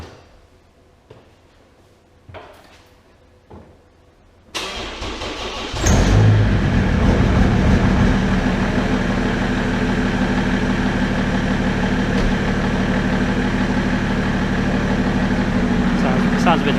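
A stage 2 BMW 535d diesel with a straight-pipe exhaust, damper pulley wobbling, cranks after a battery recharge and catches, settling into a loud, rough, steady idle after a few faint clicks and a brief whine.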